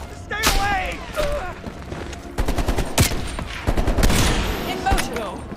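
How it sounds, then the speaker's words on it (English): Bursts of automatic rifle fire and heavy reports in the Call of Duty: Black Ops Cold War campaign, rattling in rapid volleys with booming impacts while shouting voices come through between the shots. "They're shooting at us!"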